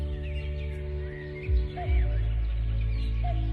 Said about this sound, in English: There's the cuckoo bird.